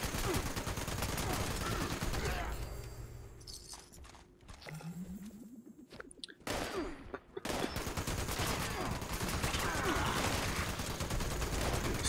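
Rapid bursts of automatic gunfire from the video game Fallout 76, loud and dense, broken by a short lull of reloading clicks and shuffling before the shooting resumes.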